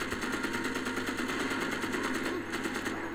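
Rapid automatic gunfire in the Magicka video game, a fast, steady stream of evenly spaced shots that runs on without a break and dips only slightly near the end.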